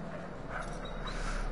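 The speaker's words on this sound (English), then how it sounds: "He's a petting puppy." A dog in the video game Until Dawn whimpers and yips softly over a steady game background hum, brief and close, no speech.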